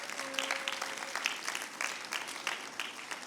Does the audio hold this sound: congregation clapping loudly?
yes